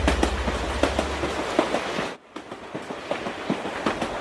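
A train rolls steadily along rails with rhythmic clickety-clack wheel beats and a low rumble, briefly dropping out before the clattering resumes, with no voices.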